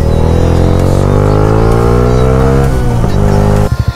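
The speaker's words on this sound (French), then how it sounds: "Ça fait bizarre d'avoir une moto qui fait du bruit" A loud Yamaha MT-07 motorcycle engine drones steadily with rising pitch as it revs up, then cuts into a few sharp pulses near the end.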